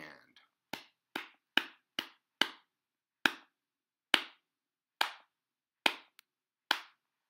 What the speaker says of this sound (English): We're going to clap it